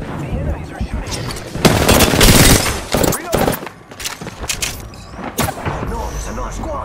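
Gunfire in the video game Apex Legends: dense bursts of rapid shots and booming impacts crowd together, loudest in the middle, with in-game voice callouts mixed among the firing.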